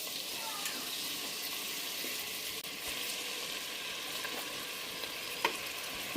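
Onions sizzle and fry steadily in hot oil and ghee inside a pressure cooker, a loud continuous hiss with a few stirring knocks near the end.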